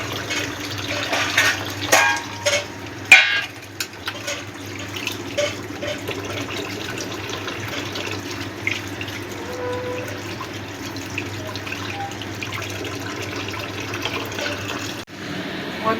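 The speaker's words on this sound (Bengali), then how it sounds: "ঠান্ডা জলে ভালো করে ধুয়ে দেবো" Soya chunks being rinsed under cold running tap water in a kitchen, a steady faint trickle with occasional louder splashes and handling bumps, close and continuous without talk.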